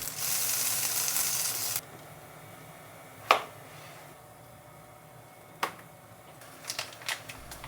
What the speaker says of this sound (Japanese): ひっくり返して裏面もじっくり焼く